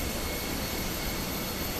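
Airbus A320 jet engines in Microsoft Flight Simulator 2020, a steady, dense broadband roar that holds constant throughout without variation.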